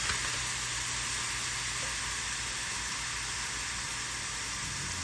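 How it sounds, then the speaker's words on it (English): Ground beef mixture browns in a hot pan for beef stroganoff, giving a steady, even sizzle and hiss that runs unbroken and close for the whole stretch, with no voices over it. "We're going to brown the beef mixture."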